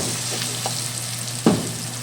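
Onions fry in a pan for mutton curry, giving a constant close sizzle with a couple of soft stirring knocks and one sharper clink near the end.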